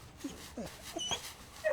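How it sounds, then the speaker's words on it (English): Dogs in a kennel in the video game Blue Prince give a few soft whimpers and short yips, faint and close, with quiet gaps between them. "Say hello to the dogs."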